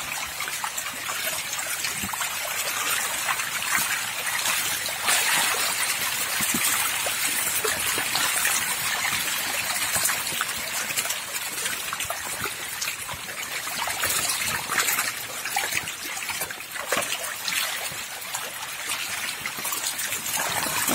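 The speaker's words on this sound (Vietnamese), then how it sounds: "Mình đang xả nước vô cho nó đầy ao" Water runs steadily into a fish pond as it fills, a continuous close trickling and splashing stream at moderate level, alone without talk.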